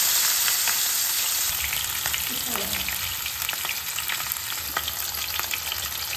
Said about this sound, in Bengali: আমি এখানে সর্ষের তেল দিয়ে মাছটা ভেজে নিচ্ছি